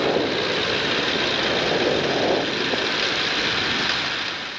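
Small propeller airplane in flight with the engine throttled back for engine-out practice, a steady broad drone of engine and wind noise holding level throughout, close and loud, with no talk over it.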